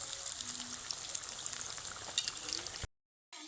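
Masala fish fry pieces sizzle in hot oil with a soft, steady crackling hiss, fairly faint and close, before the sound cuts off abruptly near the end.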